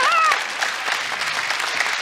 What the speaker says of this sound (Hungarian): Nagyon szépen köszönöm a tapsot.